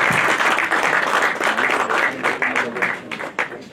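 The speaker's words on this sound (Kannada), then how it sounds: "ಒಂದು ಜೋರಾದ ಚಪ್ಪಾಳೆಯೊಂದಿಗೆ" Loud, sustained applause from a seated audience at a short film press meet, dense clapping close by that holds steady and thins slightly toward the end.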